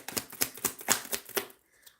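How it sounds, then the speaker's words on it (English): Tarot cards shuffled by hand, a rapid series of crisp riffling flicks in a steady rhythm for about a second and a half, close and fairly soft, then stopping. "Let me just do another shuffle on this one."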